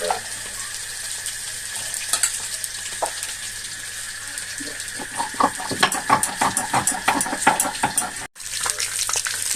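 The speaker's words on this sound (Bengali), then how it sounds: "পেঁয়াজটা ভাজা হতে থাকে" Onions frying in a pan, a close, loud, continuous sizzle with bursts of crackling and stirring scrapes that grow busier toward the end, with no voices.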